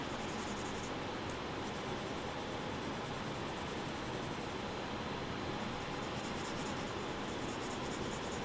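Ebony pencil shading on paper, a steady, even scratchy hiss of graphite strokes that carries on unbroken and faint, close up with no voices.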